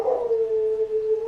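Dogs howling close by, one sustained, steady wavering howl running alone through the whole moment.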